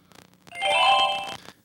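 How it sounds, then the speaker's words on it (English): A brief bright chime, After Effects' magic bell render-complete sound, rings out after a couple of soft clicks, holding its bell-like tones for about a second before fading. "When After Effects finishes, it rewards you with a little magic bell sound."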